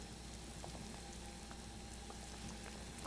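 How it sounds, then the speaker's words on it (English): Caramelized pork belly braising liquid with eggs and star anise at a rolling boil, a faint, steady bubbling and sizzling hiss with scattered soft pops throughout and no talking. "here we are at a rolling boil, and I'm going to let this roll for about a minute or two"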